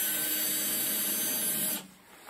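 A power screwdriver whines steadily as it backs screws out of the casing of a faulty Growatt 5 kW lithium battery, then stops abruptly, leaving a quieter room. The sound is close and continuous.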